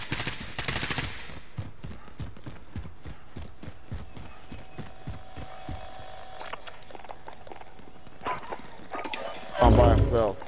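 Gunfire in the Call of Duty Modern Warfare video game: rapid bursts of automatic shots rattling steadily over several seconds, with heavy impacts and louder blasts near the end, while players talk over it.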